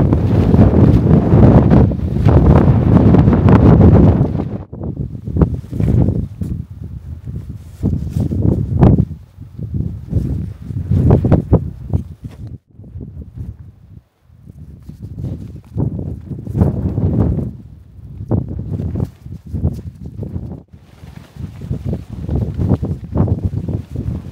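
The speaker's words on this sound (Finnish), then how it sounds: "on kyllä hitomoinen tuuli" Strong wind on a mountain summit buffets the microphone in heavy, roaring gusts that rise and fall throughout, with occasional faint rustles between blasts.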